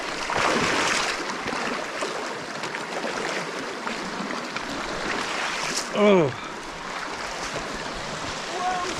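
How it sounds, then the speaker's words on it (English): Rushing water of a deep, strongly flowing river on a hiking trail as someone wades through it, with steady broadband splashing and current noise, a brief exclamation and a short whistle partway through. "It's a fighting river."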